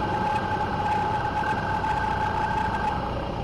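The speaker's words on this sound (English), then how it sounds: "Alright, we just had an engine failure." A light aircraft engine throttled back to idle for a simulated engine failure gives a steady, moderately loud drone with a sustained tonal hum, unchanging and continuous, with no talk over it.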